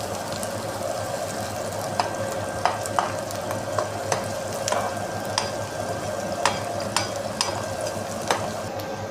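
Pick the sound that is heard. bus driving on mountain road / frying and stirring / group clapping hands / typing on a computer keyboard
frying and stirring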